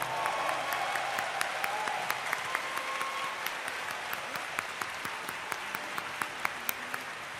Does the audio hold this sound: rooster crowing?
no